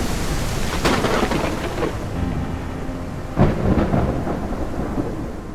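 Rain pours steadily while thunder rumbles through a storm from the Ultra Dynamic Sky weather system in Unreal Engine 5, with two loud cracks and rolling booms over constant hiss.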